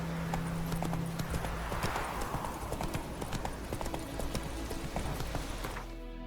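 Hoofbeats of a galloping horse in The Witcher 3 video game, a steady rapid clip-clop rhythm running throughout, close and prominent over ambient game sound, with a faint whinny early on.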